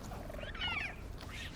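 A cat purrs while being petted in the video game Dragon Age: The Veilguard, a brief soft rumbling purr with a faint high trill, heard alone.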